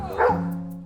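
A single dog gives a short, sharp bark in a veterinary clinic reception area, followed by a drawn-out whine that fades, close and fairly loud.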